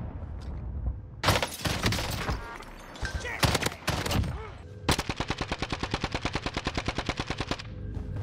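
Loud FAMAS gunfire in Call of Duty Warzone, a modded one-shot build: scattered heavy shots and bursts in the first half, then a long rapid, evenly spaced automatic volley that runs almost to the end, with faint voices underneath.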